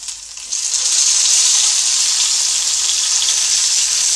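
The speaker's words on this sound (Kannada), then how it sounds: "ಈಗ ಎಣ್ಣೆ ಬಿಸಿಯಾಗಿದೆ ನಾನು ಅದಕ್ಕೆ ಒಂದು ಈರುಳ್ಳಿ ಹಾಗೆ ಒಂದು ಟೊಮೊಟೊ" Onion and tomato sizzle in hot oil in a pan, a loud, steady frying hiss that jumps up sharply as they go in, then holds evenly with no talk.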